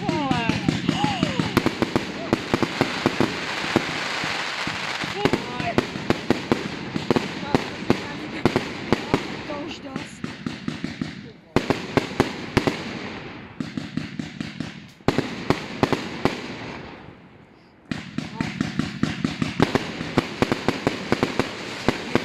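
New Year's Eve fireworks burst continuously in fog, a dense crackling barrage of pops and bangs at varying distances that rarely pauses, with voices faintly present beneath.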